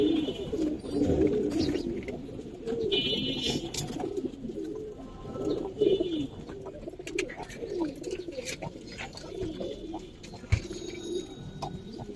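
Colouring pigeons on a farm in Bangladesh coo in soft, repeated throaty rolls, several birds overlapping at moderate distance with occasional faint chirps and small clicks around them.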